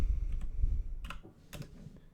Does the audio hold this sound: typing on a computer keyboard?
yes